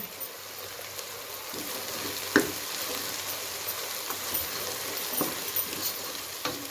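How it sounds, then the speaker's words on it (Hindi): Cumin seeds sizzling in hot oil with onions for a traditional mixed saag, a steady crackling fry with occasional sharper pops and a few faint utensil scrapes. "इस स्टेज पे हमने इसमें ज़ीरा ऐड कर देना है"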